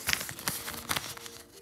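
Soft crinkling of a small, empty black plastic bag, a few brief rustling bursts close by, fairly quiet, with no talking.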